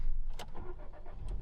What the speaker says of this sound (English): I wish the small car had a bit more of a powerful engine